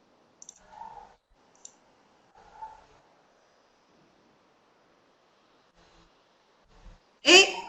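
A computer mouse clicking on a button, a few small sharp clicks spaced apart with faint soft talk between them, ending in a louder burst of noise.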